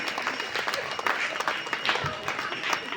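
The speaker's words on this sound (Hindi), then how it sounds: "आप सब करतल ध्वनि से इनका स्वागत करें, तालियां लगातार बजती रहें।" Audience clapping in welcome at a Gita study gathering, a lively dense patter of many hands with louder individual claps, with voices mixed in beneath.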